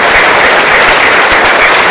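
Audience applause at a 2010 Mines Medal award ceremony as students stand to be recognized: a brief, dense burst of clapping that stays steady and fairly loud throughout.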